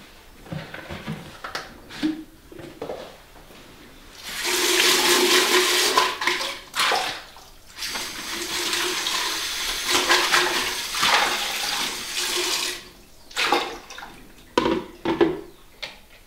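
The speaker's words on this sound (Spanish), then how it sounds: "De ahí lo cernimos." Boiled horchata liquid being strained: bursts of splashing, pouring liquid with gurgles and drips, alternating with quieter pauses, close and fairly loud, with no voice.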